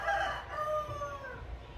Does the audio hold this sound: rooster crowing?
yes